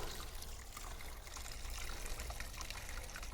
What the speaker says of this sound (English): he's got a little running brook